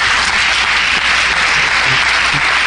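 A church congregation claps for the Lord during a Spanish-language Holy Week Passover sermon, a loud, sustained roar of many hands striking together with no gaps, filling the room evenly throughout.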